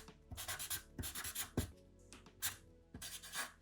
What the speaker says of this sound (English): Let's write that in.